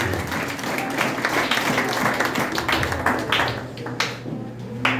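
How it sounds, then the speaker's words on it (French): Church congregation applauding after a sermon, sustained crowd clapping that fills the room for several seconds, with a low hum underneath and a few sharper individual claps standing out toward the end. "Applaudissez la parole de Dieu."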